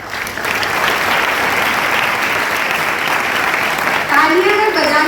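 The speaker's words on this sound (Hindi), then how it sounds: "तालियां अगर बजानी है तो ढंग से बजाइए" Seminar audience applause fills the room, a steady dense wash of clapping from many hands, loud and sustained throughout with a voice speaking over it near the end.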